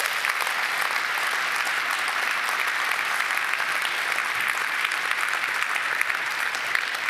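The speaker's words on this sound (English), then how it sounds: "Can I have one big applause again for Michiel?" Sustained, even applause fills the hall at a university anniversary ceremony as the audience claps for Michiel, a dense steady patter of many hands with no talking over it.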